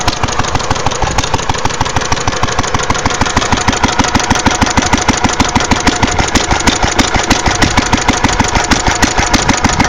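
An old International Harvester LA stationary gas engine, rated 1 1/2-2 1/2 hp and mounted on a truck, idles steadily with a loud, fast, evenly spaced chuffing beat that holds the whole time with no talk.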